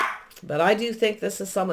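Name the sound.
small pet dog barking during a recording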